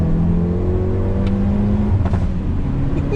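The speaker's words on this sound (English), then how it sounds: "That's just constant backfire, love it." A Hyundai i30 N hot hatch revs hard close by, its engine droning with shifting pitch while sharp pops and crackles of backfire break through the exhaust note.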